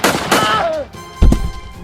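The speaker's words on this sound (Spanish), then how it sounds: "saca su pistola y le dispara 3 veces en el pecho" Pistol fired three times into someone's chest during a fight in an audio drama, sharp loud gunshot bursts with ringing decay, the last blast heaviest and booming near the end.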